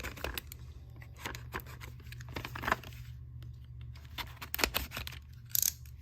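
Scissors snip open the packaging of a new 2 TB M.2 SSD, giving a series of sharp cuts and crinkling plastic, with a louder burst of snips near the end and no voices.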